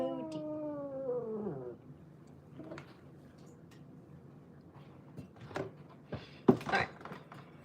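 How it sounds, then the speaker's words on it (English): A moody house cat lets out a long, drawn-out caterwauling yowl that bends in pitch, followed by a quieter stretch with scattered clicks and household knocks in a room. "You be nice. You a nice kitty."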